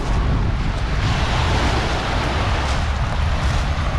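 Loud, continuous rush of waves and surf on Manila Bay with wind buffeting the microphone, no voices.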